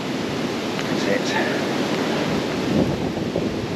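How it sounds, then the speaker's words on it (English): Strong, gusting wind in snowy March weather on the West Highland Way trail in Scotland buffets the microphone with a loud, continuous roar that surges in gusts for the whole clip. "Gusts are blowing in."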